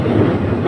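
A Kuala Lumpur LRT light rail train runs along with a loud, steady rumble and low rolling wheel noise, heard close from inside the carriage.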